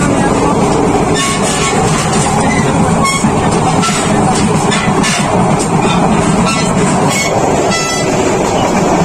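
The 802 Chattala Express running from Dhaka to Chittagong, a loud continuous rumble and rattle of the moving train with rhythmic wheel clatter throughout, heard from inside a carriage.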